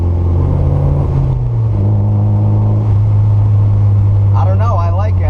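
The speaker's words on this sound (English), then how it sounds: "I like the loud exhaust." A Porsche 944's loud exhaust holds a steady, deep drone while driving, with someone talking over it.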